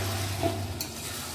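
Potatoes being stirred into sizzling pork curry in a pan, a soft steady frying hiss with a brief scrape of a spoon partway through, close and alone.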